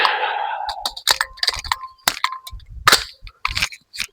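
An MP5 submachine gun firing Winchester super suppressed rounds and failing to feed: sharp, muffled cracks and metallic clicks in an irregular sequence, close and dry, with no sustained automatic fire.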